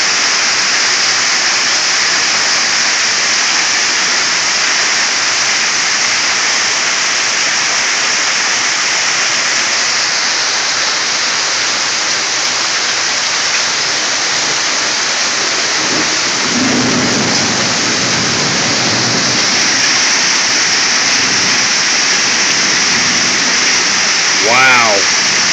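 A June 2012 hailstorm pounds a truck, making a loud, dense, unbroken roar of ice striking metal and ground that holds steady throughout, with a brief voice near the end.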